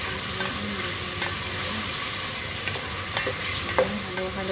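A spoon stirs chicken congee in a pot, a close, steady scraping and bubbling hiss broken by a few sharper knocks against the pot, with no voices.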